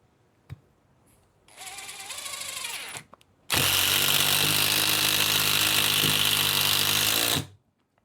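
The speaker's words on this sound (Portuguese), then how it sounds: "Perfeito, penetração completa dos parafusos, 70 milímetros de comprimento, sem judiar da máquina" A NEVVO 16V cordless drill at its maximum third speed drives 70 mm screws, running in two loud, steady whining bursts, the second longer and heavier as the screw sinks fully, with a brief knock beforehand and no talking.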